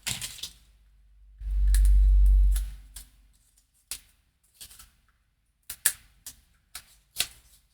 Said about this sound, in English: So now we can peel the backings off of our puff tape